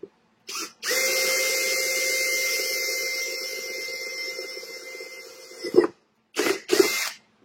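A power sanding tool grinds against a plastic workpiece in one loud, steady run of about five seconds with a high whine, then cuts off, followed by a few short bursts.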